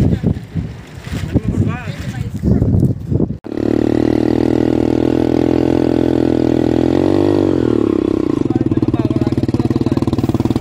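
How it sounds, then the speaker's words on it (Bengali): A motorcycle engine runs steadily and loud with wind buffeting the microphone during a bike ride at Cox's Bazar, revving briefly then settling; voices talk at the start before the engine takes over. "এখন একটু বাইক রাইড করার ইচ্ছে হলো, তাই আমরা একটু বাইক রাইড করলাম"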